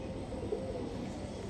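Desi high-flyer pigeons at a sale coo faintly, a soft, low, murmuring call half-buried in steady background noise.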